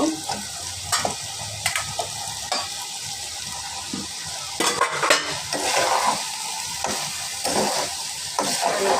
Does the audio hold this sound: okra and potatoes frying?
yes